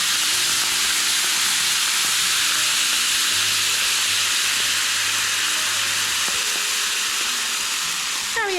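Homemade chicken stock added to a hot pan hisses and sizzles steadily as it steams, a continuous broadband bubbling hiss close up with no talking.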